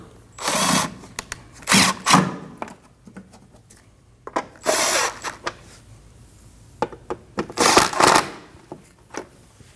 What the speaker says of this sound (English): And tighten all 3 bolts.